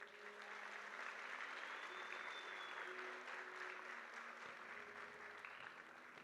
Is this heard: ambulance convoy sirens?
no